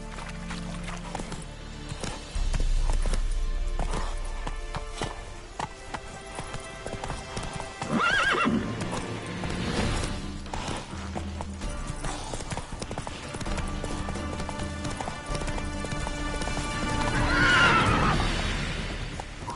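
Roach the horse gallops in a video game, rhythmic hoofbeats pounding steadily throughout, with two loud whinnying neighs breaking out midway and near the end.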